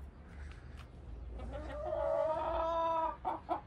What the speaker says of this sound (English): there's a whole cage or pen full of hens and cocks